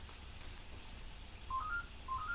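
A telephone ringtone for an incoming call sounds faintly in a quiet room as two short rising electronic tone phrases about half a second apart.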